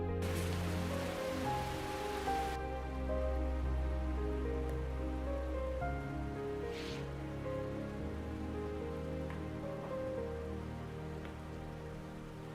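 Heavy rain in a film scene, a steady dense hiss of falling water that stays even and continuous throughout, with a low rumble underneath and no voices.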